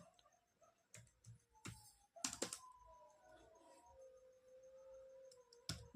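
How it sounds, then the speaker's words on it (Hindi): Quiet typing on a computer keyboard while entering table data in Notepad: scattered light key clicks in irregular clusters against a faint room hiss, with no speech. "अब सेकंड डेटा आप टाइप करना चाहें तो सेकंड डेटा भी आप टाइप कर सकते हैं"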